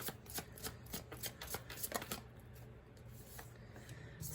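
A deck of oracle cards is shuffled close by, a quick run of papery riffling flicks at first that thins into softer shuffling, quiet and without speech.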